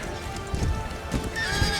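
In the Empire Total War game, horses carrying axe-wielding riders neigh and whinny over a bed of clip-clopping hooves and battle noise, the calls rising sharply a few times within a couple of seconds.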